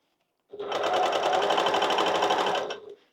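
A sewing machine runs a topstitch along a seam on a zippered bag, starting abruptly and humming in a fast, even whir for about two seconds before stopping, close and alone.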